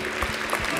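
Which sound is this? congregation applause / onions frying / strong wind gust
congregation applause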